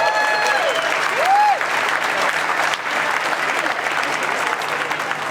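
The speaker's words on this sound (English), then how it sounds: "Let's give a big round of applause for Phil Sanderson going for his 10th." Continuous applause from a crowd at a Western States Endurance Run gathering, honoring a runner going for his tenth finish; steady dense clapping with a whistle near the start.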